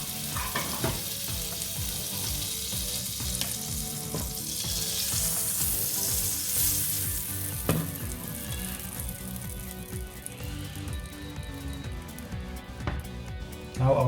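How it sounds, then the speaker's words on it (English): Chickpea veggie burger patties pan grill in butter, giving a continuous close sizzle with bursts of crackling, pan knocks and utensil clatter throughout. "So now I'm going to pan grill them."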